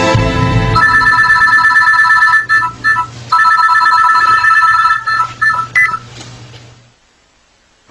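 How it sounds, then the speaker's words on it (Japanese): A telephone rings with a loud, repeating electronic trill in two bursts, then cuts off and fades to near silence. "そんな時、一本の電話が。"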